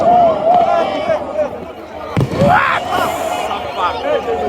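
New Year fireworks in Kigali, Rwanda: one sharp burst cracks out midway through, while crowd noise and voices carry on throughout.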